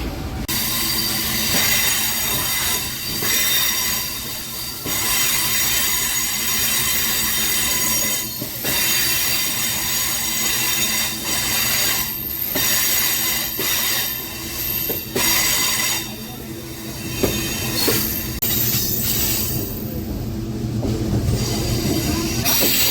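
A MEMU train pulls into Vijayawada Junction, wheels squealing loudly against the rails with steady rolling rumble and clatter throughout, a few sharp screeches rising near the end as it slows.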